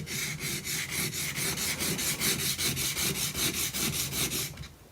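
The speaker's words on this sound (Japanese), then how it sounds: "縦研ぎをします。" A wood carving chisel is stroked lengthwise along a whetstone in a steady back-and-forth rhythm, each pass giving a close, gritty rasping scrape, about twenty strokes in a row before stopping.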